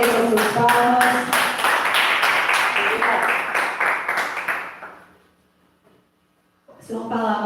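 A church congregation at a prayer service claps in a steady rhythmic burst under a preacher's voice, fading to near silence before clapping and talk resume.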